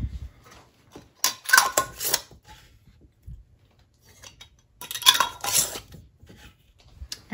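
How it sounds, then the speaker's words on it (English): Lids clinking and scraping onto glass jars of homemade vanilla extract made with vanilla beans and vodka, two bursts of close, bright clattering separated by a quieter pause, no talking. "Now we'll get the lid on them."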